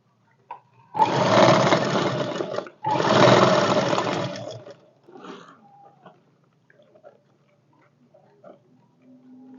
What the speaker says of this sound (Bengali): এদিকেও সেলাই পড়লো, এদিকেও সেলাই পড়লো। এটা ডবল হয়ে গেল, তাহলে হাতলটা মজবুত হবে।